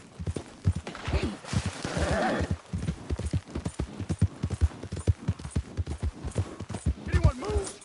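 Horse hooves clip-clop in a steady walking rhythm in the video game Red Dead Redemption 2, close and clear, with a whinny and a brief spoken voice mixed in.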